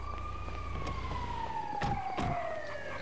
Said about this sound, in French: J'ai entendu des sirènes juste à côté là.